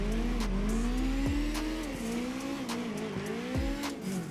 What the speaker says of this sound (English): bringing her up into the rev limiter through these cars